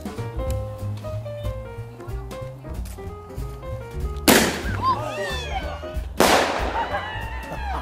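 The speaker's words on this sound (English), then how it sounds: "All right, who wants to see a firework?" Two sharp, loud firework bursts go off during a Christmas celebration, each cracking suddenly and trailing off in crackle, about two seconds apart, with faint voices and background noise between them.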